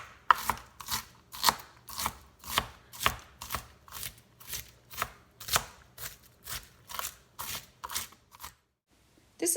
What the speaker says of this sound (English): This is what the onion looks like as I'm cutting it.